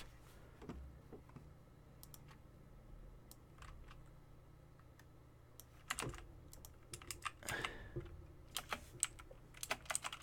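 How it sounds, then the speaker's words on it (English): Typing on a computer keyboard while building a landing page, quiet scattered key clicks that grow into denser bursts in the second half, close to the microphone and free of speech. "You could type anything you want."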